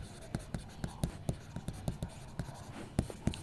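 Pen or marker strokes on a board or paper, a steady run of short scratchy taps roughly every third of a second, close and fairly quiet with no voice over them.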